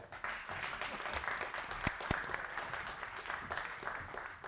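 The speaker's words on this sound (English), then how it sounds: "let's give him a big round of applause" Audience applause at a Kubernetes meetup talk, a steady wash of clapping from a small room lasting several seconds, with a couple of brief low thumps partway through.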